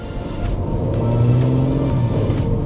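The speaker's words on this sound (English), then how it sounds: "you've got the sound of that wonderful V6 behind you at all times" A 2019 Audi RS5 V6 revs with a throaty, close roar that swells in pitch over a couple of seconds and then settles back under a constant road rumble.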